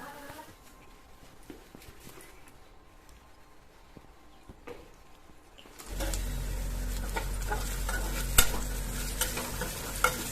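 Quiet kitchen clatter, then poha suddenly starts sizzling loudly in a hot pan for breakfast, with stirring scrapes and a few sharp clinks.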